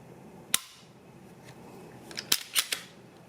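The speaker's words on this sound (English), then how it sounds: "Here's the trigger pull." The trigger of a Shadow Systems MR920 Elite pistol is dry-fired: one crisp, close metallic click, then after a pause a quick cluster of lighter clicks as it resets and breaks again, with no talking.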